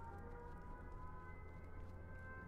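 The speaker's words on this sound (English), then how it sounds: "I hear sirens." Sirens wailing in the H1Z1: King of the Kill battle royale game, a faint, steady, droning tone held throughout with a low hum underneath and no voices.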